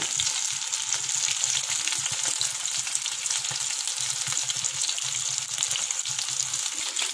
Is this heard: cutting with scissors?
no